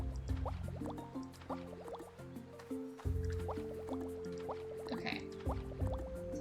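An automated watering system sprays crops in the farming game Roots of Pacha, heard as soft trickling, dripping and filling water sounds layered over a mellow in-game music loop, fairly quiet throughout.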